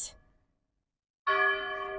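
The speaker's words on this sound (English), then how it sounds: "Those bells are ringing again." A bell rings out loud and sustained after a short silence, its rich ringing tone holding steady, preceded by a brief fading sound.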